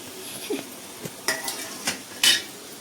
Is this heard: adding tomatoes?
yes